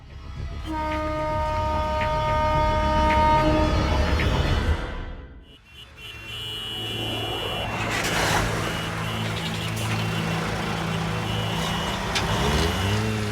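A cartoon traffic jam: a dense wash of engine rumble, rail-like clatter and blaring horns, loud and continuous, dipping briefly to near quiet halfway through before the jammed vehicles and honking swell back up.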